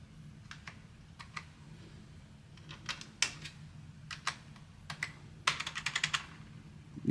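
Someone types on a computer keyboard at a desk setup, with irregular bursts of clicky keystrokes, close and fairly quiet, and a faster flurry of keys near the end over a low steady hum.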